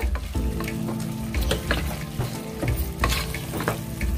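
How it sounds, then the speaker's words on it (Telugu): Onions fried until red are joined by tomatoes for a dry fish and egg curry, producing a loud, close sizzle broken by frequent stirring scrapes of a spatula in the pan. "వేగినాయండి ఉల్లిపాయలు ఇప్పుడు టమాటాలు వేసేసుకుందాము"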